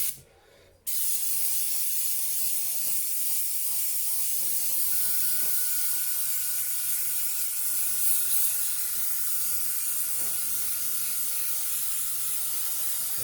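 An airbrush spraying liquid mask onto a Tamiya RC car body shell gives a steady, close, continuous hiss that begins abruptly after a brief opening burst and runs unbroken to the end, with a faint thin tone from the compressor setup.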